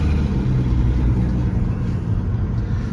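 A Volkswagen Golf R32 turbo with new Golf R clutch packs and an exhaust leak drives gently and shifts gears, giving a steady low engine drone heard from inside the car with no voices.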